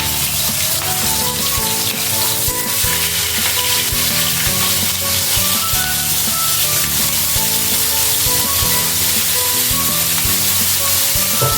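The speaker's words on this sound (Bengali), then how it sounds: "মাছগুলো ভেজে নেব।" Prawns frying in oil in a pan, a loud continuous crackling sizzle heard up close, with frequent clicks and scrapes of stirring running through the whole stretch.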